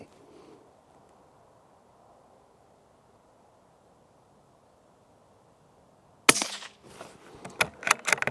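A Tikka T1X rifle fitted with an aluminium rimfire silencer fires outdoors, giving a sharp suppressed crack after several seconds of quiet breeze, followed by a few more clicks and knocks, no talking.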